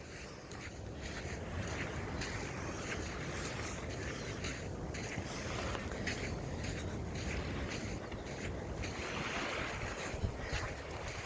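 Waves wash continuously onto the beach at Tamassa resort in Bel Ombre, Mauritius, a steady broad surf roar mixed with wind buffeting the microphone, with no voices.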